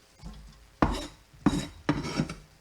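Beef, onions and vegetables are stirred in a pot, with three scraping, rustling bursts of a utensil moving food against the metal, each strong and close, separated by brief quiet pauses.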